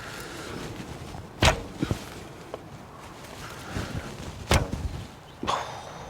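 Arrows loosed from a 50-pound bow give a few sharp, separate thwacks and snaps spaced over several seconds, fairly close, with quiet outdoor background between shots.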